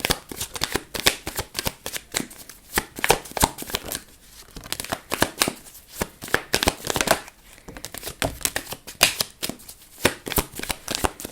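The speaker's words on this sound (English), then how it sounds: "Here, I will shuffle on camera now." Tarot cards shuffled on a table, a steady run of quick papery riffles and slaps in close succession with brief pauses, loud and near, with no talk.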